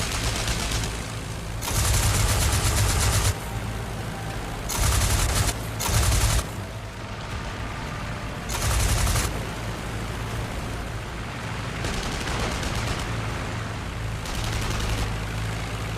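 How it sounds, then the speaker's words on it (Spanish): Bursts of aircraft machine gun fire crackle loudly in several separate volleys of one to two seconds each, with steady engine drone between them, as in a World War I air combat scene. "Disparando su ametralladora, derribó el SC-5 matando a su piloto, el segundo teniente Jorge Craig"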